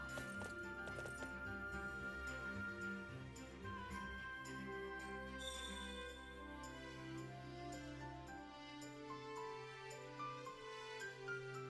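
Horse hooves clip-clop steadily in the Fire Emblem Warriors video game, set against layered game music, with a horse whinnying near the start and no talking.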